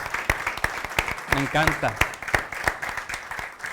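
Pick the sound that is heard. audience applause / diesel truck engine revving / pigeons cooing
audience applause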